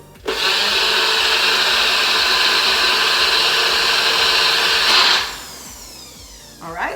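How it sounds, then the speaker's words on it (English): A NutriBullet blender grinds oats into flour with a loud, steady whirring roar that lasts about five seconds and then winds down abruptly, followed by a brief rattle. "I'm going to be grinding those up in the NutriBullet"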